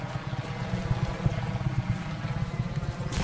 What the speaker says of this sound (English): Did I hear the military helicopter?